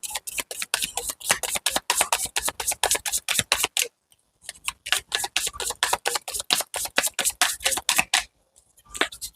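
A tarot deck is handled as another card is drawn, producing rapid, crisp, evenly paced card flicks and snaps close to the microphone, broken by two short silent pauses.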